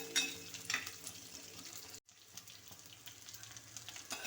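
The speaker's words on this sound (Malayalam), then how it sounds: "ഇപ്പോഴും നമ്മൾ മുരിങ്ങയ്ക്ക ഇവിടെ അഞ്ച് മിനിറ്റോളം ആയിട്ടുണ്ട് വഴറ്റിക്കൊണ്ടിരിക്കുകയാണ്" Moringa drumsticks sautéing in a pan give a steady soft sizzle with scraping stir sounds, fairly faint, with a brief gap midway and no talk.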